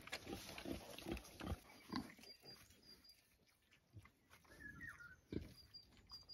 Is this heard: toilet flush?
no